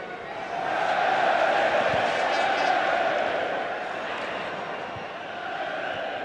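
German supporters at Old Trafford during a Euro 96 football match against the Czech Republic, a steady roaring crowd cheer filling the stadium, swelling and easing slightly while a commentator talks over it.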